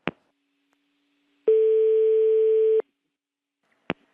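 Telephone dial tone sounds after a call is cut off. A steady tone holds for just over a second, framed by sharp handset clicks before and after, and the line is otherwise silent.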